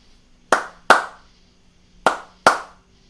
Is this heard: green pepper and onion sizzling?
no